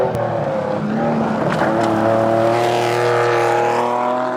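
A rally car on a downhill stage of the Rocky Mountain Rally, its engine droning loud and close with steady revving tones throughout, no speech.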